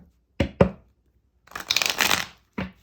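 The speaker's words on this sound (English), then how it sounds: "let's give that another good shuffle" Tarot cards being shuffled close up: two quick riffle snaps, then a longer dense burst of flicking, sliding cards, and a final short shuffle.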